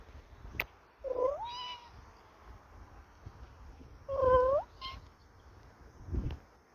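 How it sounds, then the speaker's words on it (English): A cat meows twice nearby, short rising-falling calls separated by quiet room noise and faint thumps, with no talk. "There's a cat."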